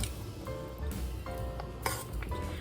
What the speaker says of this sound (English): I'm just tossing around our potatoes and our egg and our celery.